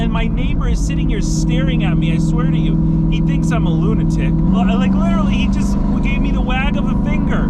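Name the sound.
faulty Aston Martin engine droning loudly at low speed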